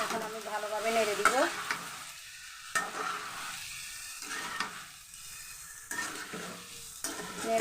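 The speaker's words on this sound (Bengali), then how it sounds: "এখন আমি ভালোভাবে নেড়ে দিব" Pasta and Thai stick noodles are stirred in a frying pan, bursts of sizzling and scraping strokes alternating with quieter pauses, with a brief voice at the start.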